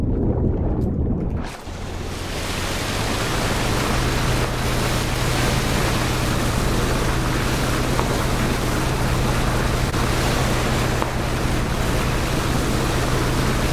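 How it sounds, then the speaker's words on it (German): A motorboat engine in PlayerUnknown's Battlegrounds starts and drones loudly and continuously with a low steady hum, mixed with rushing water and wind noise. "Nice, ein Boot. Boot ist nicht schlecht. Ist zwar übelst laut"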